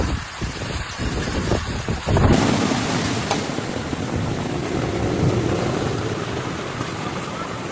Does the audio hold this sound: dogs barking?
no